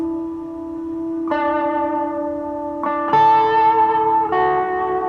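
Sustained electric guitar chords through a reverb pedal ring out with huge, cavernous reverb, each new strum swelling into a long, washy echoing tail.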